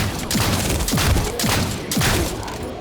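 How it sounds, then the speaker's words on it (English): Repeated heavy shotgun blasts from a shooter video game, The First Descendant, booming at a steady pace of roughly one every half second, loud and continuous with no talk. "It's time for more shotgun."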